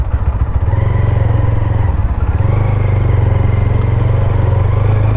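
A motorcycle engine idles and runs close by on a street in Lucknow, a loud, steady low throb with a brief dip in the middle before settling back to an even putter.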